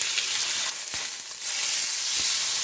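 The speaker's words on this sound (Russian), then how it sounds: "Сковорода раскалена, добавляю немного оливкового масла и обжариваю на сильном огне с двух сторон." Meat searing in olive oil in a hot frying pan, a loud bright sizzle with crackling spits and a few soft clanks or stirring knocks, steady and close.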